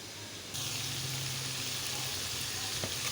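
Taro root (arvi) drops into hot oil in a karahi for an aloo arvi dish, and a loud, steady frying hiss bursts in after a brief quiet moment and keeps going.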